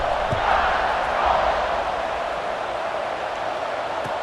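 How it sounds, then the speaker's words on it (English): A stadium crowd buzzing in the College Football 26 video game after a score, a steady loud wash of crowd noise and murmur sustained throughout, with no talk. "this crowd is buzzing after that last score"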